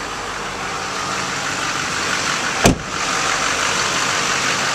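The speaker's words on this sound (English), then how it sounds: "It is the Duramax diesel with Allison transmission." A 2012 Chevrolet Silverado 3500HD with a Duramax diesel idles at a steady, close rumble, broken about halfway by a brief sharp knock before the even idle resumes.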